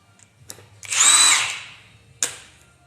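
A Milwaukee half-inch impact gun spins off a 24 mm bolt on a used F450/550 2WD front axle, one loud sustained burst of about a second, with a few sharp clicks before and a clank after.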